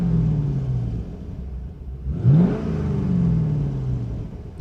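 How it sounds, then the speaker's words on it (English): Fifth-generation Chevrolet Camaro engine, cold after sitting all winter, idling with a low rumble, then blipped once in a short, gentle rev that rises and falls back to a steady idle. "Just a little baby rev there."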